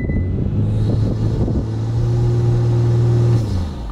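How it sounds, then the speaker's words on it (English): A Kia Stinger fitted with an HPS cold air intake holds a steady rev on launch control, a loud close engine drone rising in pitch then settling into a sustained hum. "Okay, so that's what it sounds like when you use the launch control."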